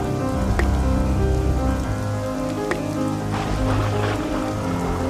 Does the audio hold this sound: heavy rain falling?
yes